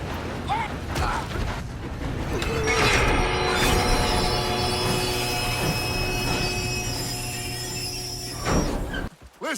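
Loud rumbling train in motion in a video game, with metallic creaks and sustained high wheel squeals, heavy mechanical clatter ending in an abrupt jolt.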